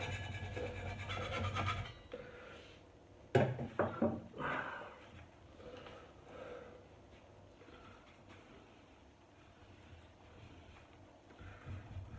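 Scraping across the wooden surface of a dining table being stripped, a close, rough rasping with a cluster of louder strokes early on, then quieter, steadier rubbing.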